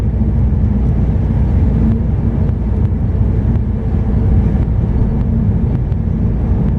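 An MG ZT with a turbocharged engine accelerates in a loud, steady drone of low engine rumble and road noise, heard from inside the car and continuous throughout.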